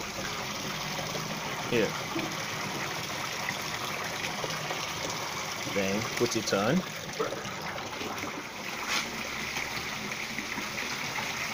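Water runs steadily through a pipe into a catfish tank, a continuous close rushing trickle, with a person speaking briefly over it.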